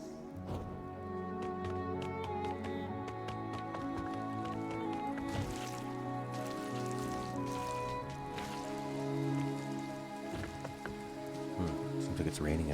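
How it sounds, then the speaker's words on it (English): Rain patters steadily in the video game Ori and the Will of the Wisps, a soft pattering bed under game music tones and effects, quiet overall. "Seems like it's raining out here."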